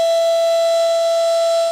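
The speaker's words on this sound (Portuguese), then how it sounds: "As sirenes de alerta tocaram na cidade." Civil defense alert siren sounding over a city during floods, a loud steady wailing tone held without a break and fading slightly at the end.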